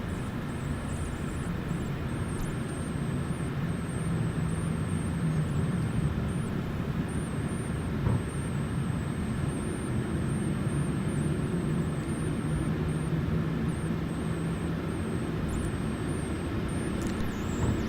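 A WestJet 737 takes off in Microsoft Flight Simulator 2020 with a steady, loud, broadband engine roar and a thin high whine above it, continuous throughout, no voices.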